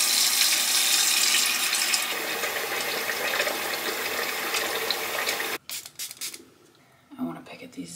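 A bathroom tap runs while someone washes their face, giving a loud, steady hiss of flowing water for about five seconds. It then cuts off abruptly, followed by a few faint splashes and handling sounds.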